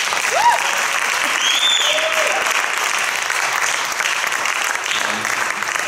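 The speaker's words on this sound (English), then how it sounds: "So could you guys please give them a round of applause?" A recital audience at a Belmont University senior guitar recital applauds for the crew, a steady, dense wash of clapping with a few whoops and whistles rising over it, sustained throughout at fairly loud level.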